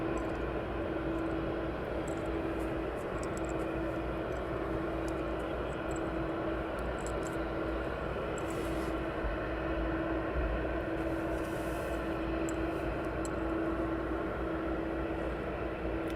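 Steady, continuous drone of jet aircraft at East Midlands Airport, with a Swiftair plane lining up on the runway at dusk; a distant, even engine roar holds throughout with a faint tonal hum and no talking.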